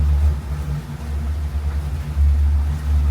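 Motors of an Antares 9 V2 model spinning together under throttle, a steady low hum with slight wavering swells, close and continuous with no talk.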